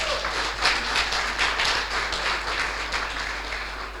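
Applause for a team at the final of a Ukrainian youth financial-literacy tournament, a fairly even patter of many hands clapping in a hall, moderate in level and free of speech.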